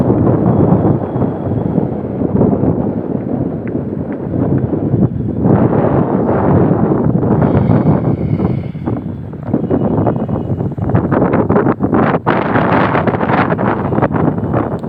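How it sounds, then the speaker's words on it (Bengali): Strong wind roars and buffets the microphone at the end of an airport runway, a loud, continuous rumble that surges and dips over several seconds. "অনেক বাতাস, বিমানটা যাওয়ার সময় অনেক বাতাস লাগে"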